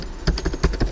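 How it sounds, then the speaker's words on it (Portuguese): Quick keystrokes on a computer keyboard while renaming a Photoshop layer, about six distinct taps in under a second, close and clear with no voices. "digito o novo nome da camada"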